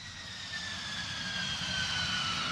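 A Lockheed F-35 prototype jet engine roars during a vertical takeoff, a loud, sustained whine with steady high tones that swells slightly over a few seconds and has no voices over it.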